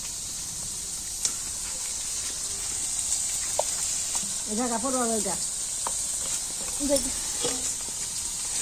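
Whole spices sizzle in a hot pan for a village-style chicken curry, with a steady hiss throughout and occasional clinks and stirring scrapes; a voice is heard briefly in the middle.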